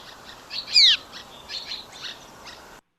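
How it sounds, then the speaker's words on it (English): Flight calls of several adult birds flying past their nests at a meadow's edge: a few sharp, high chirps, one louder and nearer, the rest fainter and scattered over soft background hiss. "They also have a flight call, and you'll be able to hear this one. This is of multiple adults flying by their nests."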